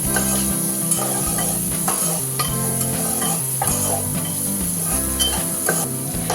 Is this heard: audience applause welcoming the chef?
no